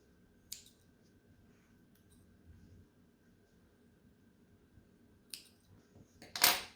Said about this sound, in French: on coupe les petits fils